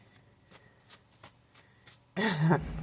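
A deck of cards is shuffled in a series of soft, evenly spaced riffs, close and fairly quiet, followed by a voice speaking.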